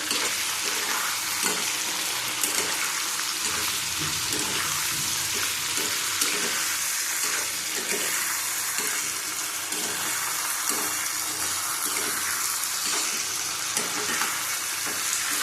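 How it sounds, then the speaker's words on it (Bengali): Eggplant and potato sizzle and fry steadily in a hot pan over high heat, with scraping stir noises throughout and no talking. "আঁচ বাড়িয়ে কষিয়ে নেবো, নাহলে বেগুনগুলি ঘেটে যাবে।"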